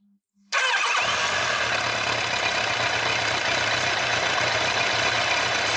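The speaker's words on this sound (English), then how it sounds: "let's start the bike" A Kawasaki ZZR1100 D motorcycle with carburetors fires up after a short starter whir, then settles into a loud, steady close idle with no talk.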